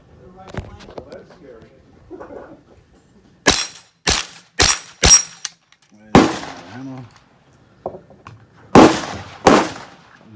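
Volquartsen rimfire gun fired at a tree outdoors, about seven sharp, close cracks, a rapid cluster of four then scattered single shots, with faint voices in the quiet gaps.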